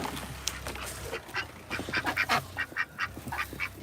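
Ducks inside a coop during a blizzard give a run of close, loud nasal quacks and honks, repeated in quick irregular bursts over a low background rumble.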